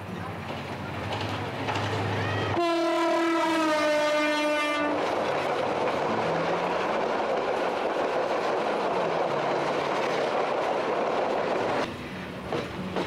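A train horn blares loud and long as a train rolls through a station along the Dhaka–Sylhet railway in Bangladesh, followed by steady rumbling and clattering of passing cars that fades near the end.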